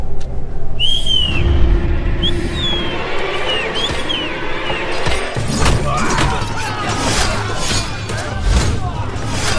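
Sharp, piercing human whistles given as a signal ring out over a noisy crowd scene, followed by crashing thuds and clatter, with some talking mixed in.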